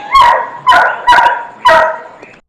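A dog barks loudly and close by, four sharp barks in quick succession followed by a faint trailing yip.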